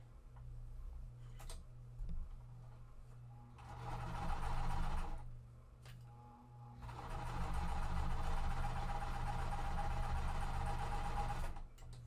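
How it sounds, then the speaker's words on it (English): A sewing machine stitches quilt fabric triangles, running in two bursts, a short one and then a longer steady run, with a fast mechanical ticking and hum between quieter pauses. "I'm going to sew this one the same way"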